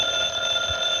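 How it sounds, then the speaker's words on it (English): A telephone keeps ringing with a sustained bell-like trill, near and fairly loud, with no talking over it. "I believe that's the phone."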